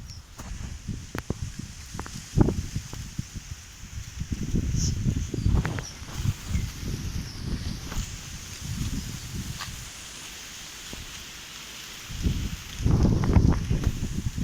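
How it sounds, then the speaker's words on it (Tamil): Wind blows through coconut palm leaves in gusts, bringing bursts of rustling and low buffeting that swell and fade, with quieter lulls between them. "நல்லா காற்று அடிக்குது."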